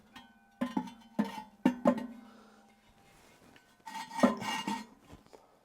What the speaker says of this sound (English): let me put the ceramic piece back in there